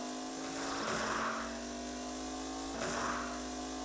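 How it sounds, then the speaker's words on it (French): Car engine in a Mario Party gear-shifting minigame: a steady synthesized drone that jumps in pitch at two gear shifts, each marked by a brief surge, moderately quiet, with no voices. "le mini-jeu, c'était juste accélérer et passer les vitesses au bon moment"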